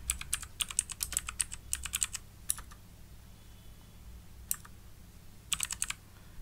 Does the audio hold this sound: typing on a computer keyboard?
yes